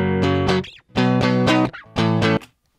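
An electric guitar played through Guitar Rig 5 amp modelling, dry with no external reverb, plays three bright, distorted chord stabs with short gaps and a clean cutoff at the end.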